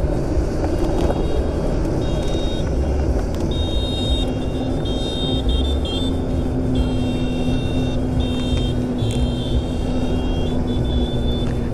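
A 2021 Zero SR/S electric motorcycle riding under regenerative braking, a steady motor whine and road rumble with faint electronic tones, continuous and fairly loud throughout.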